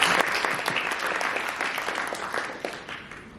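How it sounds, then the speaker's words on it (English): A room of attendees at a cannabis regulator panel applauds steadily, many hands clapping at moderate loudness and slowly tapering over a few seconds. "Can we give a round of applause?"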